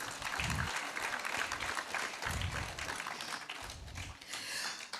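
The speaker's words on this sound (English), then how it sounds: "Clap yourselves, please" Audience applause at a national science fair, a steady wash of clapping from a seated crowd lasting several seconds, with low thumps rising and falling beneath it.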